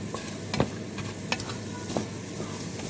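Spoon stirring eggs and bacon in a pot, with soft scraping strokes over a steady sizzle of frying and a few sharper knocks against the pot side.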